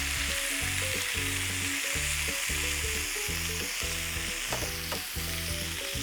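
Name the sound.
pork and cabbage frying with butter in a pan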